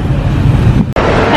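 Heavy road traffic outside an SM mall: a steady, dense roar of engines and tyres that drops out for a split second near the end, with a voice faintly mixed in.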